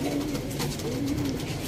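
Sialkoti red-bead pigeon cooing softly and steadily at close range, a low repeated coo running through the whole short stretch with no talk over it.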